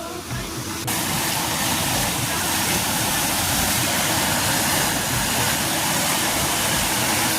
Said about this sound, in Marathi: कालपासून गावाला इकडे पाऊस पण खूप पडलेला आहे पाणी तर तुम्हाला दाखवतोच